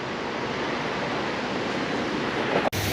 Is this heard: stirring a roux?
no